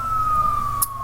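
Police car siren in GTA 5 with the LSPDFR mod, a steady electronic wail holding a single sustained tone for about a second, fairly loud over a low engine rumble, with a brief high blip near the end.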